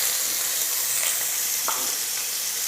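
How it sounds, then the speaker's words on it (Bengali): Chopped onions sizzle loudly and steadily in oil left from frying koi fish, a dense close-up crackle with a faint stir or clink partway through. "মাছ ভাজা তেলের ভিতরে এখন দিয়ে দেবো 2টা পরিমাণ পেঁয়াজ কুচি,"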